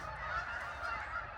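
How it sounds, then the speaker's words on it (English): Canada geese honk continuously in a cove, a dense overlapping chorus of nasal calls heard at moderate distance with no talk over it. "a lot of Canada geese here"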